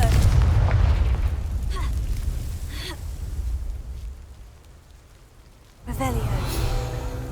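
A Confringo spell explosion in Hogwarts Legacy, a deep booming blast fading into a rumbling tail, followed by another burst of game effects as a voice speaks.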